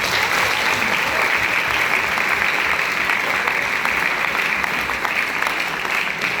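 Loud, sustained applause from a large audience at a business distributor event, steady, dense clapping filling the whole stretch with no pauses.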